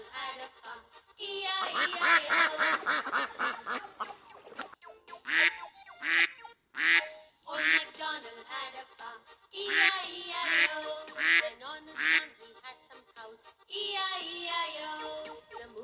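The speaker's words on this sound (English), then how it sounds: "Duck." A duck quacks in a long run of loud, nasal bursts, some rapid and clustered, others separated by short gaps. The calls are close and stand alone with no talking.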